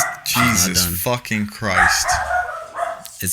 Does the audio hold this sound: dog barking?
yes